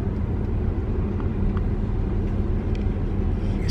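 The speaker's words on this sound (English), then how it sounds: "You see, got a little traffic at the intersection here." Continuous low engine rumble of road traffic at an intersection, steady and fairly close with no clear individual pass-bys, heard alone without talk.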